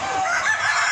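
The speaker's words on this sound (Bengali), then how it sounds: "আমি এই মুহূর্তে একটি ফ্লোরের এক অংশের মুরগি আপনাদেরকে দেখাচ্ছি।" Chickens in a poultry parent stock house, a dense, continuous mass of clucking and crowing from many birds at once, loud and close, with no talking.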